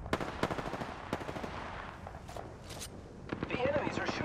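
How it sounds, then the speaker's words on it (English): Enemy weapons fire in Apex Legends as bursts of rapid automatic shots and a few sharp single cracks. The shooting is moderately loud and sits inside busy game sound effects. "The enemies are shooting at me."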